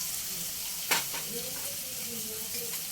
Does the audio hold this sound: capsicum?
yes